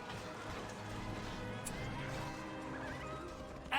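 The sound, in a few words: horses neighing and galloping in video game Battle for Middle-earth 2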